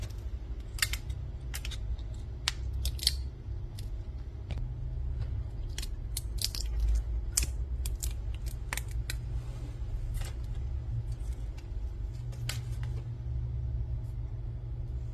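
Dry tamarind pods cracked and peeled by hand, brittle shells giving sharp irregular snaps and crackles up close over a constant low rumble of background traffic.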